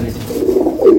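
Pigeons in a collection of Malwai and Andha birds give a soft, low cooing, one continuous throaty murmur rising slightly at the close, near and clear.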